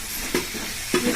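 A spoon scrapes twice through lemon rice gojju frying in a pan, each stir a sharp close knock over a constant low sizzle.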